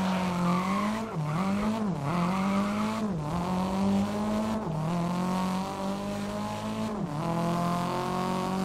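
A Nissan Silvia race car in the GRID video game on the Okutama Grand Hillclimb holds a loud steady engine drone that dips and recovers through shifts and corners, with tyre squeal mixed in.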